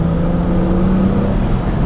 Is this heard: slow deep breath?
no